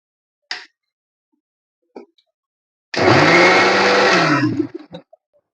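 A kitchen blender whirs at high speed for about a second and a half, grinding peeled tomatoes into paste, preceded by a few isolated clicks and followed by short rattles as it winds down.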